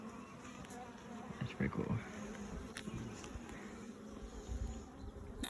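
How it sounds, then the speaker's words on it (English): Honeybees buzz steadily at close range while a hive frame of freshly emerged bees and brood is inspected, a dense insect drone with brief voices speaking over it. "So that is a freshly emerged bee."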